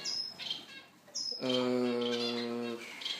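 Captive zebra finches in an exotic bird breeding setup give sharp high chirps, then a longer buzzy nasal call, close and clear with no talking.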